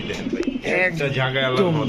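Pigeons coo steadily among the birds for sale at a pigeon market, a close, continuous burbling with voices talking over it.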